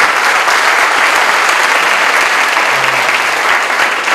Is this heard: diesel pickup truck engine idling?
no